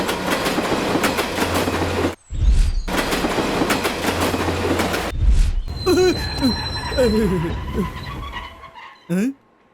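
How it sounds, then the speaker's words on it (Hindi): Train arriving at a railway station in a Hindi-dubbed South Indian film scene, loud rumbling and clattering of rail cars with brief cuts, then squealing brakes and screeches as it slows, with voices mixed in. "ट्रेन नंबर 1064 कुछ ही देर में यहाँ आएगी"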